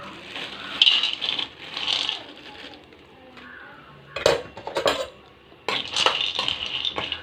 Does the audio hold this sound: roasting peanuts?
yes